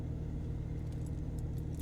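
A parked truck's engine idles with a low, steady hum throughout, while keys jingle lightly in short bursts close by.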